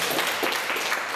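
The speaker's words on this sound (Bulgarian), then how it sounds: "аплодисменти за малките" A crowd at a breakdance session gives the kids a brief burst of dense applause, steady and fairly loud for about a second.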